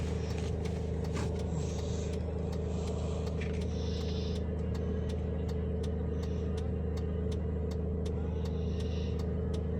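A generator engine runs with a steady, continuous mechanical rumble at moderate distance, joined by faint scattered clicks, with no one talking over it.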